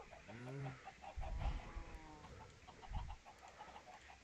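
Video game chicken clucking, a few short bright clucks up front followed by softer scattered clucks under low background ambience, fairly quiet overall.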